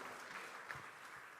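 A church congregation claps in praise to Jesus during a sermon, a short burst of dense, quiet applause with no voices over it.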